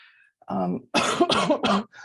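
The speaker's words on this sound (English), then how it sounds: "I apologize, I have a cough that never seems to go away" A few rough coughs in quick succession, close and fairly loud, preceded by a short throat-clearing sound, with no talking.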